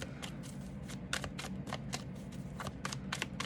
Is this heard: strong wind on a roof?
no